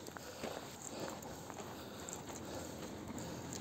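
Quick footsteps of someone running on a daily walk with a dog, faint and steady against a constant background hiss.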